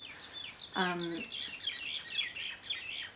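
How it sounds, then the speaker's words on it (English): Small birds chirp and tweet in quick, high repeated calls outdoors, fairly close and lively, while someone speaks briefly in the middle. "Oh my god, the birds are going off."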